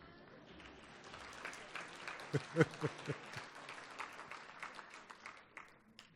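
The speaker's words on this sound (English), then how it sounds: "The applause is a little tired." An audience applauds at a university academic achievers' awards ceremony, a steady wash of clapping that swells in the middle and then tapers off, moderately distant.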